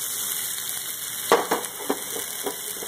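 Chopped potatoes and onions frying in a pan, a steady low sizzle with a few soft stirring clicks and scrapes partway through, close and moderately quiet, no talking.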